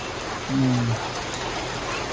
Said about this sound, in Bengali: রোদ অথচ বৃষ্টি নামতেছে একবারে জোরে